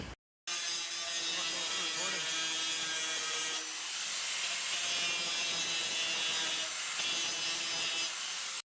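An angle grinder scours a steel body panel on a 1966 Mercury Park Lane to prep it for welding: loud, continuous abrasive grinding with a couple of short dips in intensity before it bears down again.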